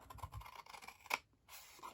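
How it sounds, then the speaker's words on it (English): Large scissors cut paper straight up along score lines for a scalloped tag box topper, a close crisp snip and short scratchy slicing strokes, quiet with no talking. "I'm actually going to bring in my larger scissors for this, and I'm going to cut straight up"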